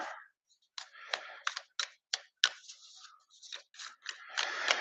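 Board game cards are riffled and shuffled together in a series of sharp, crisp bursts and flicks, close and fairly quiet, with brief pauses between them and a longer rustle at the end.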